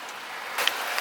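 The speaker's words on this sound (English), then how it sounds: "It's raining now, guys." Rain falls steadily around a car fitted with a dashcam, a close, continuous hiss of drops with a slightly heavier burst partway through.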